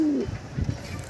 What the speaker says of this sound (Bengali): যে নটটা ডাকতেছে এটা আমার ওই যে খয়রি গলা মাদি আর কালো গলা নট দিয়ে করা।